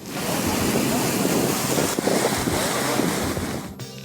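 A flooded river in Abdasa rushes after torrential rain, a dense continuous roar of churning water close to the microphone, with wind buffeting it and no voices.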